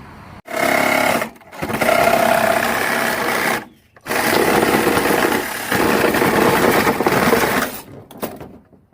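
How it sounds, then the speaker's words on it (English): A reciprocating saw cuts through a metal flag pole sleeve in loud, buzzing bursts, pausing briefly between strokes, with the rapid rattling motor close by and no talking. "that tells me where to cut this at with my sawzall"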